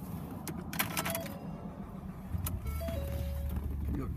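A car is started from inside the cabin: clicks and a brief whir, then a low engine hum settles into a steady idle, fairly quiet and close, with no talking.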